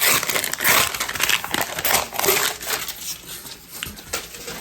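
Close-up plastic wrap is peeled and crinkled off a 20oz skinny tumbler, a continuous busy crackling and rustling for several seconds.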